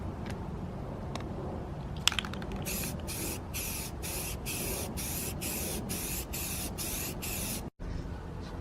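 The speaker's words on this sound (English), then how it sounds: "About to lay a couple more coats of primer and call it a day." Primer is sprayed onto a car bumper in a rapid series of close, hissing pulses from a spray can, with a few light clicks and rattles before the bursts start and steady background noise throughout.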